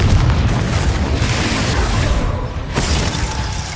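A Confringo blasting spell bursts in Hogwarts Legacy, a loud, dense explosive roar that holds steady for nearly four seconds with a brief dip near the end, close and sustained, with no voices over it.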